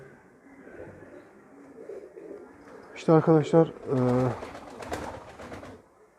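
Domestic pigeons, freshly bathed on a hot day in Istanbul, give several loud, close cooing calls in short bursts over a mid-section, with someone talking before and around them.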